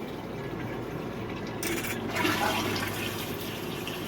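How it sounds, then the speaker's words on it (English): A Dometic SeaLand boat toilet flushes close by, a short rushing burst of water that swells for about a second over a steady low background hum, then settles back. "And there goes a flush."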